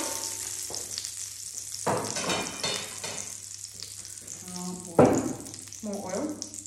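Seafood and oil stirred in a paella pan, with bursts of sizzling and scraping stirs, some sharp clatters and brief voices over a low steady hum.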